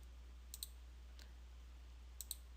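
Computer mouse clicks while rigging in Maya, four sharp faint taps in two quick pairs over a low steady hum, with no talking.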